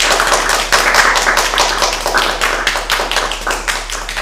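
An audience at a youth participation conference applauds its guests, with loud, close clapping and distinct individual hand claps standing out over a continuous patter.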